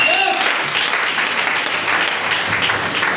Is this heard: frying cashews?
no